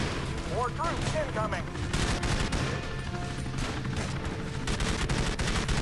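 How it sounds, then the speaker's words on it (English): Machine gun fire in the mobile shooter Frontline Commando 2, rattling in dense sustained bursts over game music and effects, fairly loud and continuous throughout. "grabbing the machine gun will give you that little bit of an advantage against those big transports"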